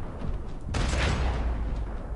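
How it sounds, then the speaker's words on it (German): Gunfire in the video game Max Payne 3, a loud burst of shots erupting partway through and rolling on with dense, booming reverberation. "zwei Schüsse und zwei sinken zu Boden"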